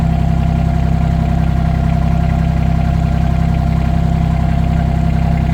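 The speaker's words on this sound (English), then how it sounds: "So this is how we pump the gasoline into the tank." Battery-operated pump transferring diesel fuel into a tank, a steady, continuous motor hum with a constant low drone throughout, no talking.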